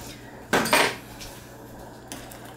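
A metal spoon clinks and scrapes against a dish while deviled egg yolk filling is portioned back into egg whites, making one brief close clatter and a fainter tap a moment later in a quiet kitchen.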